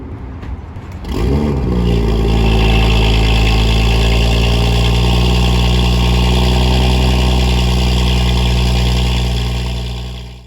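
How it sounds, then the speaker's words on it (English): A car engine cold-starts with no exhaust silencers, cranking and firing up, then settling into a loud, deep, raspy idle that drones on steadily. "Here's the startup and the decibel meter with no silencers in it"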